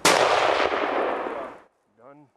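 A rifle shot fired at a moose while hunting in Canada, a single loud, close blast with a long rolling decay, followed by a brief voice.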